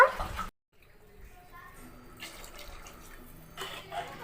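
Water pours into a pot of chicken biryani in a short splashing burst, then a quieter steady trickle with faint background sounds, and another brief pouring surge near the end.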